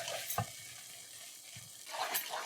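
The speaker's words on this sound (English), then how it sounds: "It still has to be turned a little bit more off the heat" A thick milk roll mixture is stirred in a pot, with soft scraping strokes and a few faint thuds of the spoon against the pot, quiet and close, with no voices.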